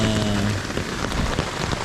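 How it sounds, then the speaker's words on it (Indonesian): Steady rain pattering on a tent close by at a campsite on Bukit Asah, Bali, a dense, even patter of drops with no voices. "Tuh, kedengeran ya hujannya ya."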